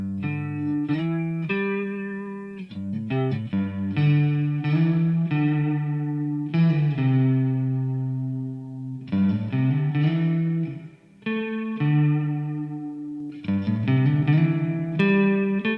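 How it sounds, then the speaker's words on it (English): Sustained synth chords processed through the Valhalla Supermassive reverb plugin ring out with long, lush reverberant tails that wash between phrases, loud and continuous with no voices. "This could be your one and only go-to reverb for pretty much any situation."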